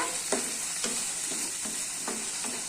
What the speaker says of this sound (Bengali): এবার কষানো হচ্ছে।